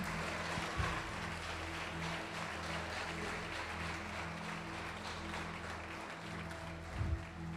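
Church congregation applauding, a steady faint patter of clapping heard from a distance over a low electrical hum.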